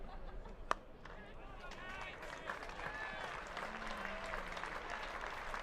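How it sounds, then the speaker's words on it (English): Steady crowd applause across a large open cricket ground during a T20 match, a continuous wash of distant clapping with a sharp single crack early on. "Round of applause around the ground for David Willey for that dot ball."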